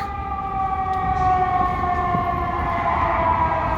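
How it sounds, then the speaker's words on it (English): A wailing fire truck siren rises and falls steadily, loud and continuous, over a low rumble of street traffic in downtown Chicago. "And you hear sirens everywhere. Another fire truck."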